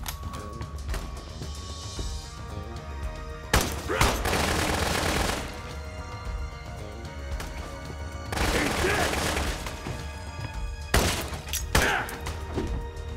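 Grenade explosion in Dead Rising Deluxe Remaster, several sharp, crackling bursts and shattering debris, close and loud, with a player's voice talking between them.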